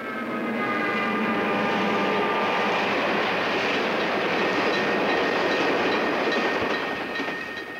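Freight train number 73 of the Louisville and Nashville Railroad, out of Cincinnati and hauling 130 cars, rumbles past as a loud, steady roar of wheels and cars with faint clatter that holds for the whole stretch.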